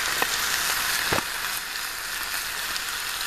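Bread cooks in a pan at a bushcraft camp, giving a steady close sizzle and crackle with a few small pops, running continuously with no speech.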